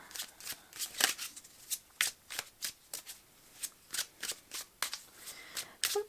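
Tarot cards shuffled by hand, a steady run of quick, crisp riffling bursts, close and fairly soft, with no talking.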